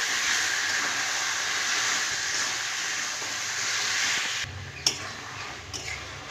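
Boiled, softened taro greens are stirred in a hot pan, giving a steady sizzling hiss that drops quieter near the end, with a sharp utensil clink.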